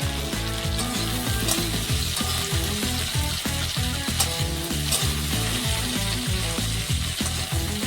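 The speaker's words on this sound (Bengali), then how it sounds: "ভিটুলিগুলোকে ভালো করে ভাজতে হবে, যাতে ভাজতে ভাজতে সিদ্ধ হয়ে যায়" Bhituli crabs fry with salt in hot oil in a kadai, giving a constant, loud, close sizzle over a steady rhythmic tonal pattern that runs throughout.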